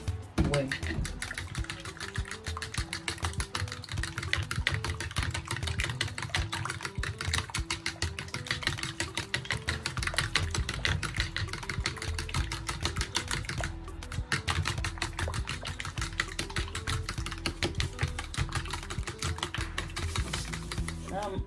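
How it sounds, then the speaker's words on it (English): A whole egg is whisked into evaporated milk in a bowl for doughnut batter, producing a rapid, steady clicking and tapping that runs continuously at close range with no pauses. "So we have evaporated milk, with the full egg. Then I'll whisk it well."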